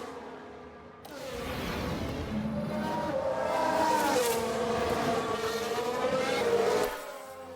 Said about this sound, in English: Now we see the Williams here. They've lost control, and there's the crash.